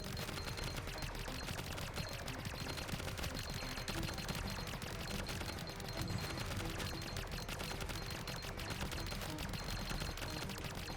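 Dense, nonstop weapon fire from Vulcans and other guns in the space survival roguelite Greedland, a loud, constant barrage of rapid shots with no pauses over the whole stretch.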